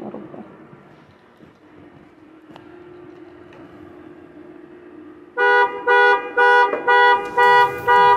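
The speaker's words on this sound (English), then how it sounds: "a car alarm starts going off" A car alarm goes off during a sheriff's office bodycam encounter, blaring in loud, regular pulsing honks after several seconds of quiet outdoor ambience.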